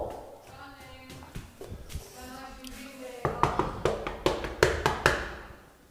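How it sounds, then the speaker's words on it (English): Knocking on a house door during a thunderstorm: a quick series of about seven sharp, close raps follows a stretch of excited children's voices. "I'll knock on that door!"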